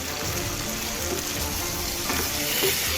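Chicken wings stirred with a splash of vinegar in a frying pan, a dense continuous sizzle close by with faint scraping of the spoon under it.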